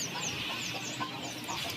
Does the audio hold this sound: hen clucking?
yes